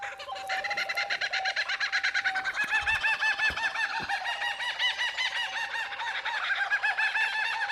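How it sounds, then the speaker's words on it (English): Kookaburras laugh in a loud, dense chorus of rising, cackling bird calls that runs continuously, with a few soft low thumps underneath. "Oh, kookaburra."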